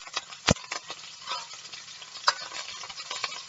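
Steak sears in a hot pan alongside a home meal of caprese, baked potatoes and roasted asparagus, giving a soft, steady crackling sizzle with a few sharp pops and clicks of a utensil against the pan.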